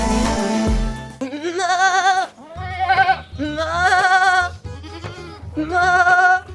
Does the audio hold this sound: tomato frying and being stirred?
no